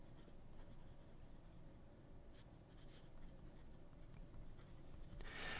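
A Chinese fountain pen nib scratches softly across paper in steady strokes, faint and close with light taps, alone without voices.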